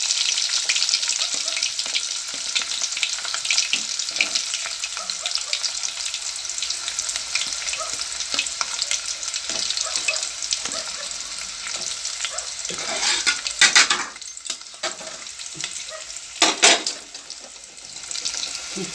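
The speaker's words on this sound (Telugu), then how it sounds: "ఉల్లిపాయలు వేసుకుంటున్నాను." Onions frying and being stirred in hot oil with mustard seeds, a loud steady close sizzle with occasional scraping stirs and bursts near the end, no talking.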